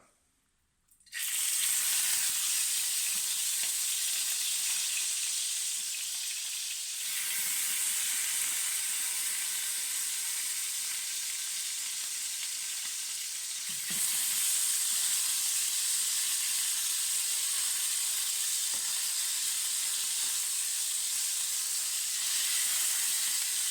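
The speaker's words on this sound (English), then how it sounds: "Now this is going to sputter." Loud, steady sizzling and sputtering of chicken pieces browning skin-side in a hot pan for chicken adobo, continuous throughout with brief surges, no voices.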